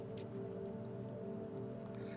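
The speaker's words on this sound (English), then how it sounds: "Hate the rain." Steady rain falling in the video game Dispatch, a faint, even hiss of drops with a low ambient hum beneath, no voices.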